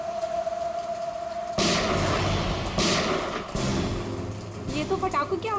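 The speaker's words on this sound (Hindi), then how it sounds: "ये तो पटाखों की आवाज नहीं लगती," Sharp gunshots ring out during a rainy night in a TV crime drama, several loud cracks spaced a second or so apart over a steady hiss of rain.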